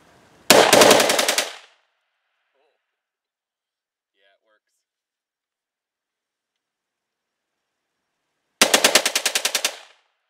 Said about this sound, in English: This is my first attempt with the Slidefire bump fire stock.